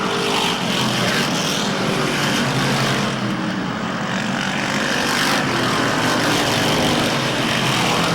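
Dirt modified race cars roar around the oval at Airborne Speedway in Plattsburgh, NY, producing a loud, continuous engine drone with a steady wash of noise, racing past without a break.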